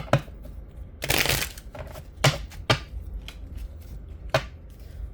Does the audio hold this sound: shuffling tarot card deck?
yes